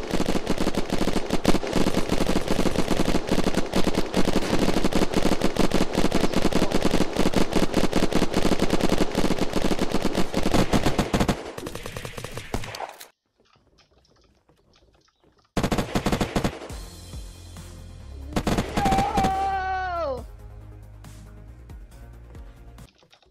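Automatic rifle fire rattles nonstop in a video game Unturned prison roleplay battle, dense and loud for about twelve seconds, then falls silent before more bursts and single shots ring out.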